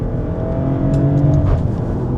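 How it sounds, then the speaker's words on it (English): A Maserati Grecale in sport mode gives a short engine surge and exhaust bark on a paddle downshift, heard close and loud from inside, with the revs climbing then briefly popping. "you get that real bark from the exhaust there"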